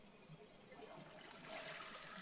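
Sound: toilet flushing in The Sims video game

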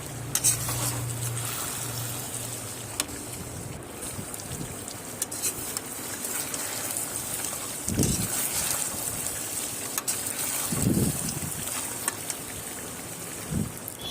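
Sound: fried meat and elephant foot yam stirred and fried

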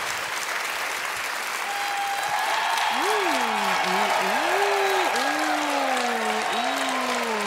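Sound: audience applause for dancer Luana Cayres

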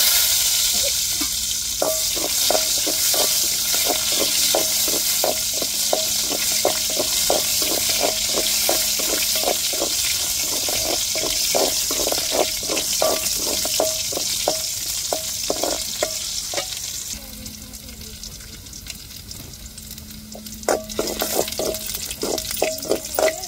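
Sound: shallots frying and tempering in oil with mustard seeds

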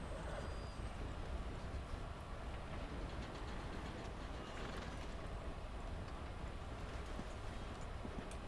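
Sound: train passing in a video game

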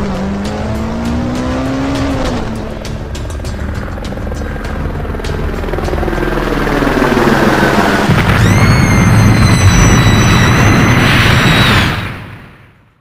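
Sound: helicopter

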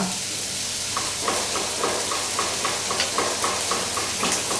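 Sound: frying loitta dried fish with chili and turmeric

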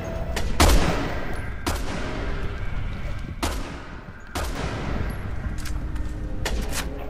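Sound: sniper rifle gunfire in the video game Resident Evil 6

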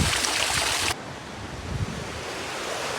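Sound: mineral spring water flowing

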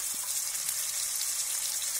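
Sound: garlic paste frying in oil

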